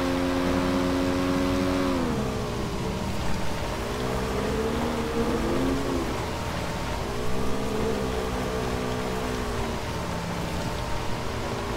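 A motorcycle engine drones steadily in PUBG, a game, its pitch rising and falling as it accelerates and eases off, continuous and fairly loud with no talk over it.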